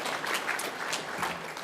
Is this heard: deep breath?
no